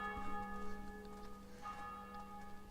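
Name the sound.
church bells ringing in Assassin's Creed II video game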